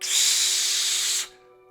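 A single close, steady hiss of sunscreen sprayed from an aerosol can on a beach, lasting about a second before stopping sharply.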